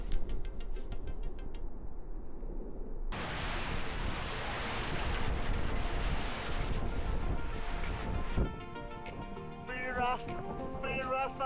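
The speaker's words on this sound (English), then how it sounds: "Really big waves." Strong wind buffets the microphone while big, rough ocean waves crash around a small boat, a loud roaring wash that shifts and drops away near the end.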